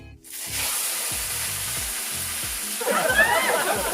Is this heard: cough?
no